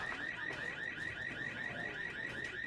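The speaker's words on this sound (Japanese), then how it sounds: "まずは鳴らして、あ、ポンで白色のアラームが鳴ることがある。" A video game alarm in Watch Dogs 2, a rapid repeating electronic warble pulsing steadily at an even rhythm, loud and continuous throughout, with no voices over it.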